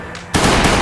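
An auto shotgun fires in Last Day On Earth, a sudden loud blast that cuts in after a quiet moment and rings out in a sustained roar.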